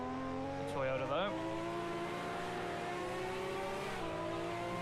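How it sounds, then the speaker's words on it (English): Nissan Skyline R32 race car in a touring car championship racing game at Jarama, its engine held at high revs with a steady harmonic drone and a brief rising rev flare, other cars close by and commentary running over it. "Using very high revs here in that Nissan as well."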